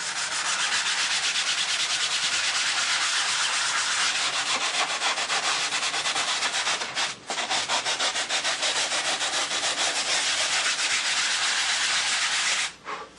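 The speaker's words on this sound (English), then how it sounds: "we're just going to block sand this out a little bit" Steady, continuous rasping of a sanding block scrubbing across a light foam wing, close and loud, with two brief pauses between strokes.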